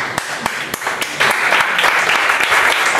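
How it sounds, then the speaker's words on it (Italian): Scattered sharp claps open, then an audience at a live book presentation breaks into fuller applause that builds and holds to the end. "Anche qua secondo me ci vorrebbe un applauso"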